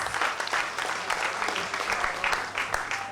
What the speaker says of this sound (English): Ladies and gentlemen, a big, big round of applause